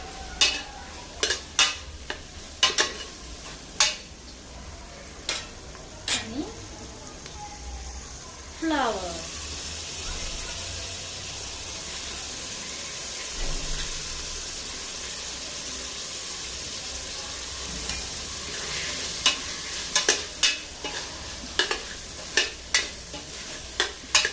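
Soybeans and green peas stir-fried on a gas stove, a steady frying hiss with repeated sharp scraping and clinking strokes of a spatula against the pan, close and fairly loud, with faint voices at times.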